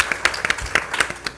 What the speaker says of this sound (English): You can clap it up.